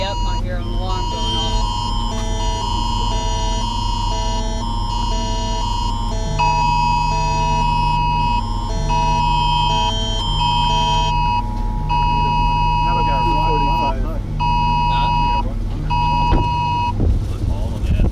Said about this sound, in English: I hear an alarm going